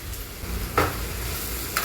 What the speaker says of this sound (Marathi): आले लसूण चांगलं परतून घ्यायचं आहे बघा, त्याचा कच्चा वास जाऊपर्यंत